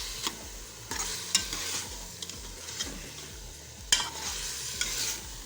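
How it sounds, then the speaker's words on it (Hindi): Mooli ka salan, a radish curry with tomato, onion, ginger and garlic, is stirred and sautéed in a pan, giving a steady soft sizzle with repeated scraping stir strokes close up. "2 से 3 मिनट के लिए मज़ीद इस तरह बुनाई करेंगे।"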